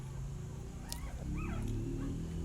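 A tired, weak pregnant security dog whimpers softly in a few short, rising whines over a steady low background hum, with no talking.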